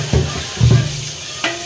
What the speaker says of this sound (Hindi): इसको भी हम भून लेते हैं, बचे हुए प्याज को भी डाल देते हैं